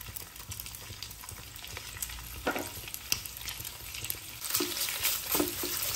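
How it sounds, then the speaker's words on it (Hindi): Chicken pieces sizzle and crackle steadily in hot oil over a high flame, with occasional louder stirring scrapes and spatters, close and continuous, no talk. "चिकन डाल के चिकन को हमें अच्छे से फ्राई करना है।"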